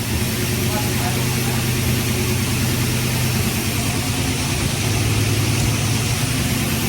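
An old car's engine idles steadily just after starting, a loud, continuous low rumble close by, with a voice speaking over it.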